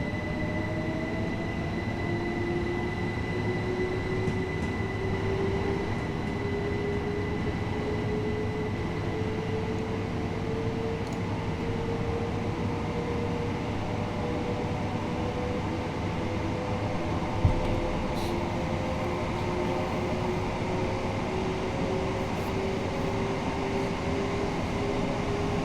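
A train on the East Coastway Line in Train Sim World runs toward Eastbourne, giving a steady rumbling drive with a slowly rising motor whine and faint rail noise, continuous and fairly quiet, and no talking.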